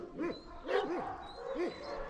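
The neighbor's dogs bark outdoors, three yelping barks spaced about a second apart, fairly faint and distant.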